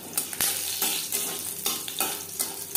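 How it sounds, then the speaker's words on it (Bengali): Whole cumin seeds and two slit green chillies fry in oil in a wok, a moderate sizzle broken by repeated scraping stirs and light utensil clicks. "ফোড়নে দিয়ে দিলাম গোটা জিরে, 2 কাঁচা লঙ্কা।"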